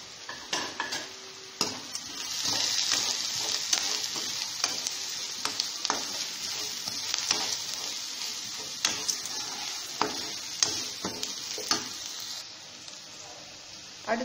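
Spice powders, Kashmiri chilli and turmeric, are stirred into a frying pan for chana masala: steady sizzling with repeated scraping and clinking of a spoon against the pan, close and continuous, with no talking.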